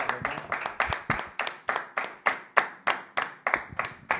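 A congregation claps in steady unison, about fourteen sharp, evenly spaced hand claps in four seconds, close and loud, praising the Lord with no voices over it.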